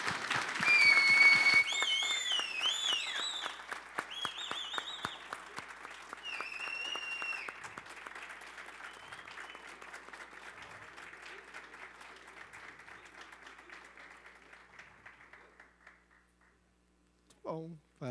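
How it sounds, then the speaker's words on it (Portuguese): Audience at a lecture applauding, a loud burst of clapping with a few whoops that slowly thins and fades over many seconds before a brief noise at the end. "Então, salva de palmas."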